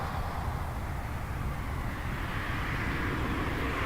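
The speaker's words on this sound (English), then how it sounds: "We got a Dash 8." A Dash 8 turboprop approaching Toronto Pearson Airport produces a steady, distant broadband roar that holds evenly throughout.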